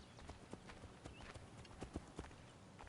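Hooves of a horse in Assassin's Creed 3 Remastered clip-clop steadily close behind, a quiet uneven trot over a soft game ambience.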